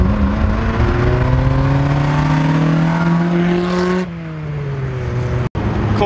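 A 2005 Honda Civic Si engine revs and drones loudly with a rising pitch, then drops abruptly to a lower hum before cutting briefly.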